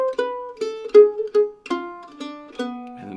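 Mandolin picks a diminished arpeggio line from a gypsy-jazz tune, a steady run of clear plucked notes stepping through about eight attacks, close and solo with no talking.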